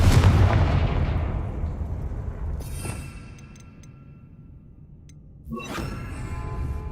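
Confringo blasting spell in Hogwarts Legacy bursts with a loud booming explosion that decays into a rumbling tail, followed by a second sharp crack and rumble near the end.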